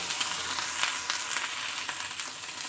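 Okra fries in a little oil for a North Karnataka-style palya, a close, steady sizzle with regular light stirring clicks running through it.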